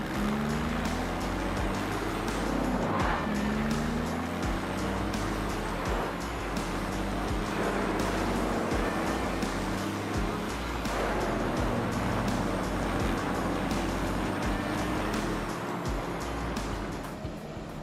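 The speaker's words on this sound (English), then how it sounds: "Diamond Z A6000 grinder, the important role in recycling and biomass production" A Diamond Z A6000 wood grinder crushes wood waste for recycling and biomass, producing a steady, dense roar with heavy rumbling and grinding, loud and continuous throughout.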